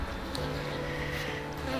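Honeybees buzzing steadily around an open beehive outdoors during a swarm transfer, a dense close drone with a low hum running through the whole moment and no voices.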